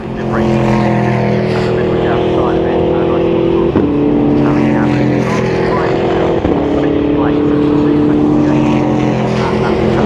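Ginetta race cars slide through Paddock Hill at Brands Hatch, their engines droning loud and steady with shifting pitch, under a race commentator's voice.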